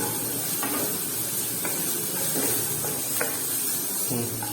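Garlic sizzling in hot oil while being stirred, with repeated scraping strokes of a utensil against the pan over a constant hiss.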